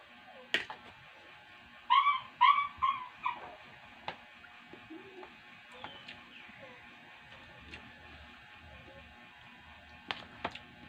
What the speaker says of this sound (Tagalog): Maingay pa yung aking aso, piyagak ng piyagak.